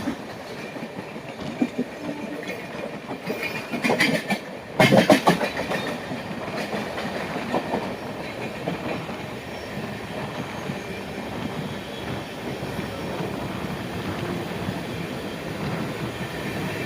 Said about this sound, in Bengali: আমাদের ট্রেন এখন মেছেদা স্টেশনে 1 নম্বর প্ল্যাটফর্মে প্রবেশ করেছে